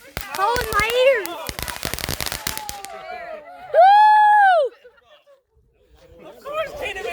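Firecrackers and fireworks crackle and pop in a dense burst of sharp bangs on New Year's Day 2025, amid excited voices, followed by a sustained whistling tone and more chatter.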